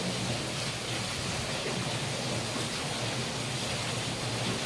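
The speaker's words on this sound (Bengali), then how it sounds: "খুব জোরে বৃষ্টি হচ্ছে" Heavy rain falls at night as an even, soft, continuous hiss, fairly faint and unbroken, with nobody speaking.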